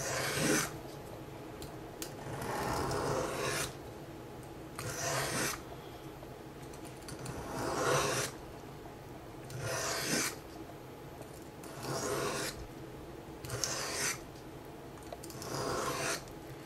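A knife blade is sharpened with repeated rhythmic rasping strokes toward the edge, about eight distinct scraping passes separated by short pauses, close and fairly quiet.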